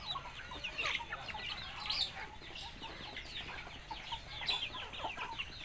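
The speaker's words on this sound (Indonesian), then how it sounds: "Tuh ayamnya pada makan semua" Chickens on a backyard poultry farm cluck and call while eating feed in the morning, a steady busy chatter of several birds at close range with no talk.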